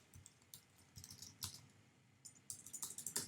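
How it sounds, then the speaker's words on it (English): Quick clicks of typing on a computer keyboard, a few scattered keystrokes followed by a faster run of taps near the end, close and fairly quiet with no talking. "Typing it in the comments section as well."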